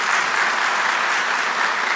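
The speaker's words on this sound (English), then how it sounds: "let's all just give a really big round of applause," Graduation ceremony audience applauding the ceremony staff: dense, even clapping from a large crowd filling the whole two seconds without a break.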